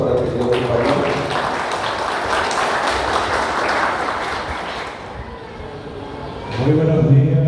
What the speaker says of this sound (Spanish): Fuerte los aplausos para el querido compañero.